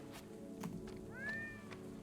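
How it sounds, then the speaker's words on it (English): A cat meows in the Little Light video game, a short rising call that sounds once over a steady low in-game ambient hum, fairly close and moderately loud. "A little cat right there."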